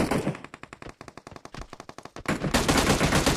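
Rapid automatic gunfire from PUBG Mobile's Dino Mode, a fast stuttering burst of shots that gives way to a louder, denser roar of sustained firing near the end.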